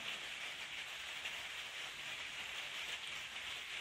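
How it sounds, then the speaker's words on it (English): Rain falls on a sunny day as a soft, steady, even hiss that runs throughout, faint and with no voices over it. "I don't know if the camera's picking up the rain."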